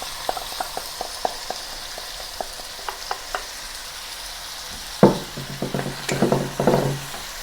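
Onion, garlic and chopped tomatoes sauté in a pan, starting with a row of light, evenly spaced taps over a soft sizzle, then a louder burst of stirring and hissing near the end.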